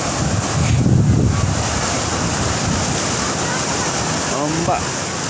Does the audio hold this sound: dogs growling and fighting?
no